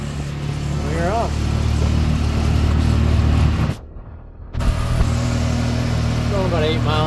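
A BigHorn 200 vehicle rolls slowly through a lot at about 8 miles an hour with a steady, close engine drone that cuts out briefly midway and then resumes, while someone talks over it.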